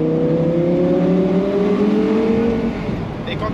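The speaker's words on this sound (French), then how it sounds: "Les rétrogradages sont super rapides" Audi R8 V10 Spyder with R-Tronic gearbox, 2010–2012, engine revving through quick downshifts, a steady close mechanical drone with rising and falling tones, under occasional talk.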